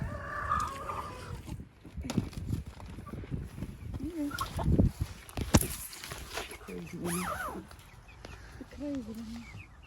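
Several chickens cluck and squawk nearby, with a few rising calls, while people talk over them in a lively outdoor setting on a farm.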